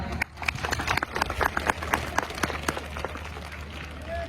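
A crowd at a school event applauds the teachers, staff and management committee with loose, uneven clapping that carries on throughout, fairly quiet, with scattered sharper claps standing out.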